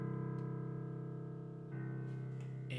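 One low-pitched piano note is held and sustained, then a second low note sounds partway through, steady and fairly quiet with no speech.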